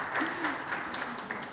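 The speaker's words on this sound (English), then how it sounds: "that calls for a celebration and a little bit of clapping" Steady applause from an audience at a smart healthcare summit, a dense, even wash of many hands clapping together, sustained for a moment and moderately loud, with a faint voice in the background.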